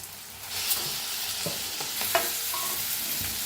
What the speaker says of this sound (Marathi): जे आपण वांग बारीक करून घेतलं होतं ते मिक्स करूया.